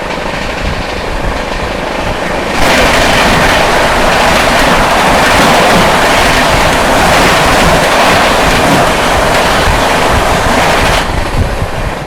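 The oncoming 20802 New Delhi–Islampur Magadh Express rushes past on the adjacent track. A sudden loud roar of wind and wheels sets in, holds for about eight seconds, then drops back to a quieter rolling rumble.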